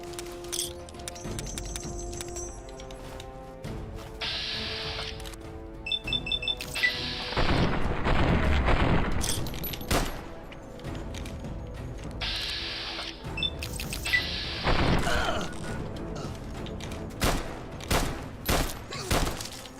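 Gunfire in the Fallout 3 / New Vegas role-playing game: sharp shots and rapid bursts over clicking weapon mechanisms and a game background, loudest in the middle, with scattered single shots toward the end.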